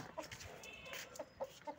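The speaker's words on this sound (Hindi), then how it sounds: "बहुत अच्छी नस्ल का मुर्गा है ये" A rooster clucks softly several times in short, spaced calls against a quiet background.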